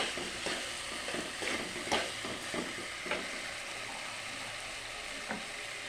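Flat bean seeds are sautéed in a pan under a constant soft sizzle, with a spatula scraping and tapping in repeated strokes close by and no talking.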